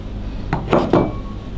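A spoon stirs broth powder and ground garlic in a bowl, making three short, clinking scrapes in quick succession against a quiet kitchen background.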